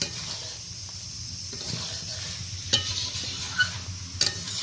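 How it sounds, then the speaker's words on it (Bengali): Shrimp, pointed gourd and potato being stir-fried together with spices in a pan, giving a steady low sizzle with a few sharp scraping clicks of a spatula near the end; no talking. "মশলার সাথে ভেজে রাখা চিংড়ি মাছ, পটল, আলু একই সাথে আবার একটু 2 মিনিট কষিয়ে নেব ভালো করে"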